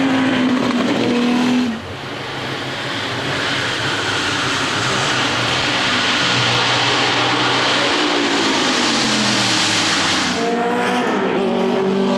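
Lola sports racing cars at the Le Mans Classic scream past at speed toward the checkered flag, loud engine roars rising and falling as cars pass close by, with a sharp dip early on before another car arrives.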